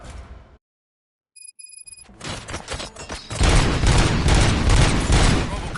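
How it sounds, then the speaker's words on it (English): Gunfire in the video game RoboCop: Rogue City, a short tone and scattered shots building into dense, loud sustained bursts of fire. "Gunshots? What's going on?"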